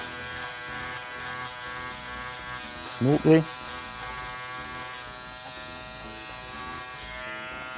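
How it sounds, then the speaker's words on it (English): Close electric hair trimmers hum steadily throughout a mid taper mullet haircut, with a brief spoken word partway through over the buzz. "Now I'm going to use my trimmers"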